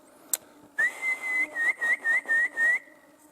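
A person in a forest whistles to call a dog: one short sharp chirp, then a clear sustained tone broken into about six rhythmic pulses, close and loud over quiet surroundings.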